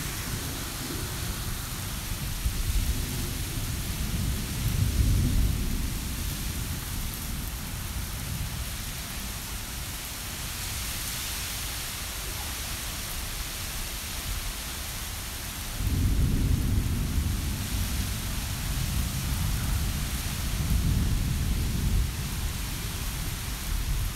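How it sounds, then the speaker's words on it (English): Thunderstorm in Fort Worth, Texas, with steady rain hissing throughout and long rolling rumbles of thunder, one near the start and a louder one from about sixteen seconds on. "Really good lightning strikes."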